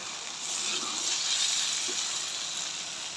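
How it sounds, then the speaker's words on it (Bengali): Biryani masala frying in a pan, a steady close hiss and sizzle with no break and no talking. "আর একটু কষাই নেব, কত সুন্দর কষানো হয়ে গেছে"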